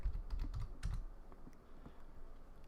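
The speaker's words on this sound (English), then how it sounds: "we'll type that in" Someone types a quick burst of keystrokes on a computer keyboard at a desk, with soft, close clicks and no voices.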